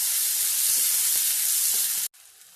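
Tomato, onion and ginger garlic paste sauté in hot oil with a steady, loud sizzle and faint stirring clicks, stopping abruptly near the end to a quiet hum.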